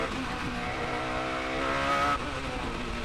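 A Radical SR8 race car weaves to heat its tyres at the Nürburgring, its engine droning loud and steady from inside the car with faint tyre scrub, then a sudden shift in tone near the end.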